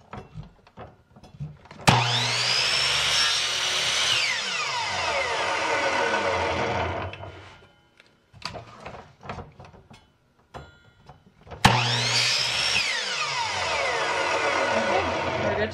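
An MDF piece for a dresser makeover being sawn with a power saw in two loud, sustained cuts a few seconds each, separated by a pause filled with light knocks and handling clatter.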